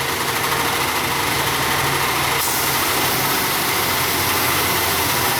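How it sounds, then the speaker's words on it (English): Car engine idling with the brake booster vacuum hose pulled off, creating a vacuum leak; a steady, continuous idle drone with a broad hiss, with a slight shift in tone partway through. "So I can create a vacuum leak here."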